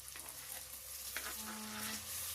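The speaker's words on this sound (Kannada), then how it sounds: "ನೆನೆಸಿರೋ ಬಟಾಣಿ ತೊಗೊಂಡಿದ್ದೀನಿ, ಇದನ್ನು ನೀಟಾಗಿ ಫ್ರೈ ಮಾಡ್ಕೊಳ್ಳೋಣ" Soaked peas fry in a pan for a home-style tomato bath in a village kitchen, giving a steady close sizzle with light stirring and no talking.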